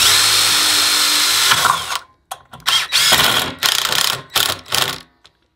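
Power drill driving screws into wood while building a DIY chair; a loud continuous whine for about two seconds, then several short ratcheting bursts as the screws seat, with no talk.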